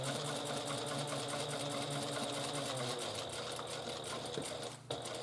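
A sewing machine back-stitches across the piped exterior of a Paulette handbag, a steady, close, continuous mechanical whir with a brief dip near the end.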